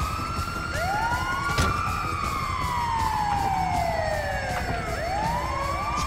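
Ambulance siren in Grand Theft Auto V, loud and wailing with rising and falling sweeps, layered with other emergency sirens and traffic rumble throughout.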